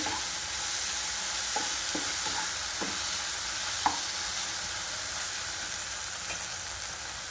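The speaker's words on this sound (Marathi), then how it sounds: "आणि छानपैकी हाय फ्लेमवर आपल्याला हे परतून घ्यायचे आहे" Vegetables with a spoonful of tomato sauce stir-fried over a high flame for street-style veg Hakka noodles, giving a steady loud sizzle with a few sharp clicks of a spatula against the pan, and no talking.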